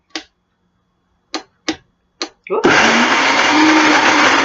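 A few sharp clicks, a brief spoken word, then a blender roars to life and runs loud and steady, blending cashews.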